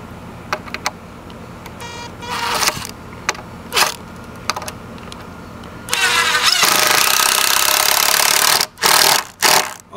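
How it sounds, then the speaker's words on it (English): A Makita power tool at a deck safety-rail build, firing in short bursts before a long, loud continuous run near the mic, then cutting out and revving briefly again. "Oh guys, I love this freaking Makita."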